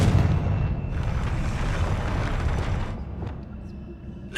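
A Confringo fire spell explodes in the Hogwarts Legacy video game, giving a loud, sustained rumbling blast that holds for about three seconds before fading into a quieter tail.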